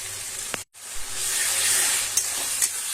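Ginger garlic paste hits hot oil with onions in a pan, giving a loud, steady sizzle that runs almost the whole time, cut by one brief silent gap and a few soft clinks of stirring.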